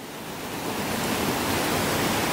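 Rushing roar of the Lynn Spout waterfall on the Calf Water in flood, in a limestone glen near Dalry, North Ayrshire: a steady, loud, broadband wash of falling water, close and unbroken, with no voices.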